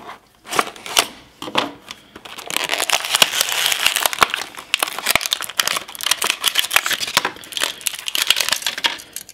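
Plastic and cardboard packaging of a Greenlight die-cast model of a 1965 Lincoln Continental being torn and cracked open up close, with a run of crinkling, snapping and crunching bursts.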